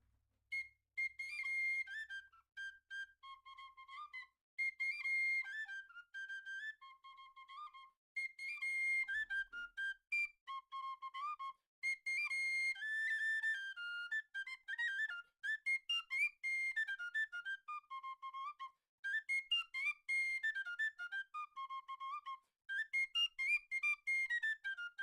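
A solo melody played on a low whistle: flowing, ornamented phrases separated by brief pauses, close and clear, with no talking.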